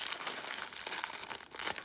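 Scissors cutting open a plastic bag from a Lego Marvel advent calendar, a close, continuous crinkling and rustling of plastic with a few sharper snips and crackles.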